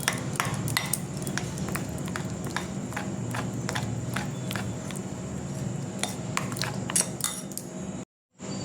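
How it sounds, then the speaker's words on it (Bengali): A spoon clinks and taps rhythmically against a bowl while cake batter with baking powder and baking soda is stirred for a gulab jamun cake, close and fairly quiet, with sharp metallic pings. "এটা দিয়ে আমি খুব ভালো করে এটা নেড়ে নেব।"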